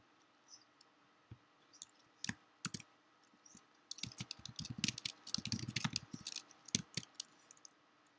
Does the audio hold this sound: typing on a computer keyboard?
yes